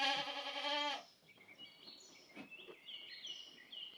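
A Kiko goat gives one loud, wavering bleat nearby on a farm, followed by faint birds chirping in the background.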